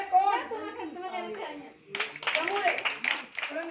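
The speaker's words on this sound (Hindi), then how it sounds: "ताली बजा दो" Audience clapping at a street magic show in Chandausi, a brief burst of scattered hand claps following a man's spoken call, with voices continuing over the applause.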